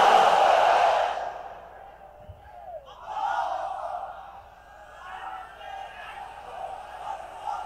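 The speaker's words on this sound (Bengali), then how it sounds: "তাকবীর পড়ুন, লিল্লাহি তাকবীর।" A crowd at an Islamic sermon shouts the takbir together, a loud, full burst of many voices at the start that quickly dies away before a voice resumes speaking.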